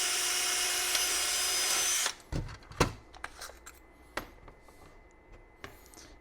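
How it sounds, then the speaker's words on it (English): A power drill whirs steadily for about two seconds, then stops, leaving scattered clicks and knocks of handling. "So tuck it, screw it,"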